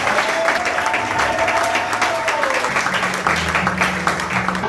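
Church congregation at an apostle's sermon bursting into sustained applause and cheers, a dense wash of clapping with voices rising over it, loud and continuous throughout.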